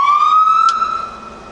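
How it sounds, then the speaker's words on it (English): A loud, close electronic emergency vehicle siren holds a steady high wailing tone that dips slightly toward the end. "The siren,"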